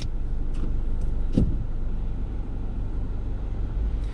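Car reversing with the steering wheel turned fully right during a parking practice session, a steady low engine hum close by with a few faint clicks and a brief thump.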